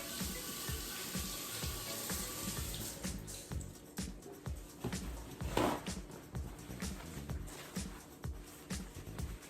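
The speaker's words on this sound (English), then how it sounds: "I rinse all my veggies" Tap water running steadily over asparagus spears being rinsed in a kitchen sink, a continuous close splashing wash with faint knocks from handling throughout.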